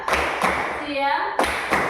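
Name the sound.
children clapping in a clapping game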